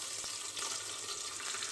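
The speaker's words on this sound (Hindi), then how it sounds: "मेरा ऑयल तेज हो चुका है और मैं इसमें डालने जा रही हूँ अपनी प्याज" Chopped onions dropped into hot oil for a dal tadka, giving a continuous bright, crackling sizzle and hiss, close and loud with no talk.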